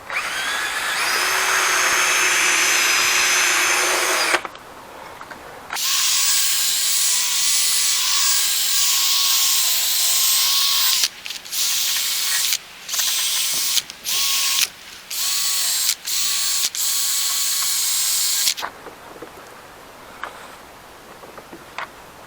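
A drill-driven sanding disc wet-sands a plastic car headlight from a Holts restoration kit, whirring loudly and close in a long run followed by a string of short on-off bursts.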